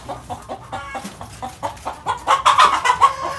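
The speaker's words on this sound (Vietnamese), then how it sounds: "có một bạn gà đang ấp" A brooding hen sitting on eggs clucks in a rapid run of short, close, fairly loud calls that grow denser and louder toward the end, with no talk over them.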